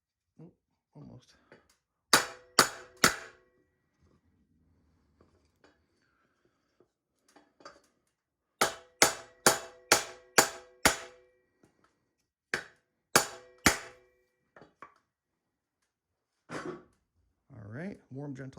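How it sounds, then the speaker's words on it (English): A hammer strikes a wooden block held over a bike headset part on a Kona Dew bicycle, giving sharp knocks in quick bursts of three to five with pauses between; someone talks briefly at the start and end. "All right, warm, gentle touch of the hammer kind of worked."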